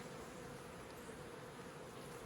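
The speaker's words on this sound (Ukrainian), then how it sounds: "Ось так нас на бджолки гарно обсиджують." Honeybees swarm around an opened beehive, giving a close, continuous buzzing drone that holds steady throughout, with no talking.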